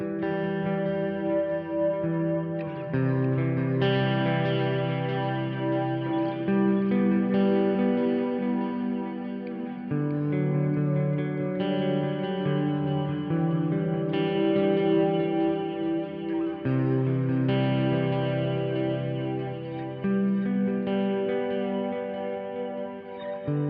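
An electric guitar plays a slow sequence of sustained chords built on thirds, each ringing out with delay and reverb so the notes blur into a wash, steady and moderately loud with no talk.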